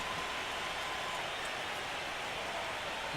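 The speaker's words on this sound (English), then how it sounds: "Really giving every guy who gets a hit a standing ovation." A large baseball stadium crowd at an NBL Finals Game 4 between the Texas Twisters and Tampa Bay Titans gives a standing ovation for a hit, a steady, distant wash of applause and crowd noise that never pauses.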